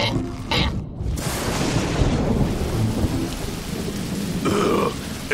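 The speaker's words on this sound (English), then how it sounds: "It's raining." Cartoon heavy rain pours down steadily while thunder rumbles and cracks, loud and close, with a brief grunt-like sound near the end.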